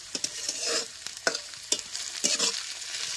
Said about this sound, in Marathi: काही तेलात कांदा आणि टमाटर कसं चांगलं भाजले बघ.